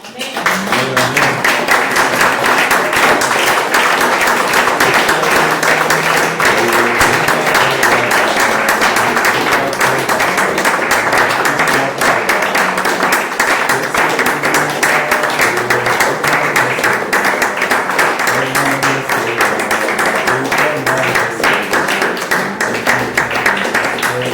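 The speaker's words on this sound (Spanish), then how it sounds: "A ver, démosle un aplauso a Dios." A church congregation applauds steadily for over twenty seconds, dense sustained clapping filling the room with a few voices mixed in.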